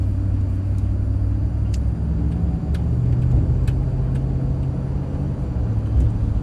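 A car drives through a Texas town, a loud steady rumble of engine and road noise filling the cabin, with faint clicks and ticks scattered over it.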